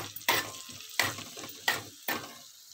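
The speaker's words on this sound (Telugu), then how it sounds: "మనం మసాలా అంతా చక్కగా ఇలా ఫ్రై అయ్యే విధంగా అయితే ఫ్రై చేసుకోవాలి" Masala of coriander powder and garam masala fries in a pan for egg curry, a loud close sizzle pulsing in four bursts as it is stirred, with no talking.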